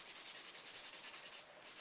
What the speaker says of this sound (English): obviously my regular clients will realise I do this with a drill